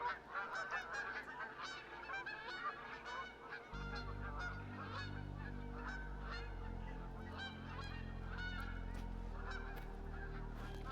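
Geese honk repeatedly in the hunting video game Revontuli, a flock calling in quick overlapping bursts, moderately near, over a low steady hum that becomes louder partway through.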